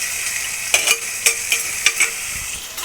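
Chicken curry base being sautéed in a pan with tomatoes, coriander and curry leaves: a steady sizzle with several sharp stirring scrapes spaced through the clip, close and fairly loud, no talking.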